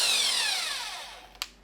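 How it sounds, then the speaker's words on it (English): A Bosch Bulldog hammer drill in drill-only mode spins at high speed with a whining, slowly falling pitch, ending with a brief sharp click as it stops. "It can drill only"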